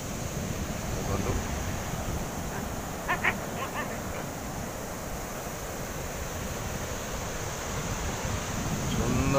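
Sea waves and wind at Chaumukh beach make a steady broad wash of surf with blustery wind buffeting the microphone, rising slightly toward the end, with faint distant sounds briefly audible.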